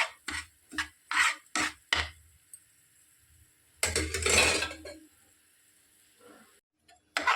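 Bombay rava semolina roasted in two spoons of ghee in a pan until lightly golden, stirred with a spoon: a quick run of close, rhythmic scraping strokes, a pause, then a longer rasping scrape, fairly quiet.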